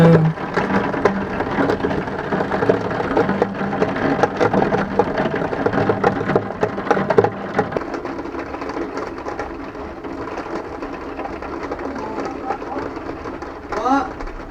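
Steady rain pours throughout a thunderstorm, with broadband hiss and occasional low rumbles; the downpour stays dense and even, easing slightly in the second half.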